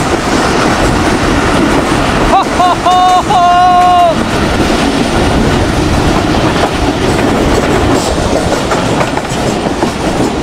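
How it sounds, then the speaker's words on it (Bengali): A passenger train running from Rawalpindi to Multan, a steady loud rumble and rattle of cars on the rails throughout, with a brief high whistle-like squeal about a third of the way in. "সামনে দেখেন কত বড় বিশাল পাহাড়ের দিকে ছুটে চলছে আমাদের ট্রেন।"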